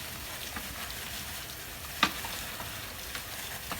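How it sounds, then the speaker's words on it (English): A shrimp boil is stirred in a Boil Boss pot, a faint continuous bubbling and sizzling hiss with a single sharp clink partway through. "I'm gonna stir it up. Keep stirring."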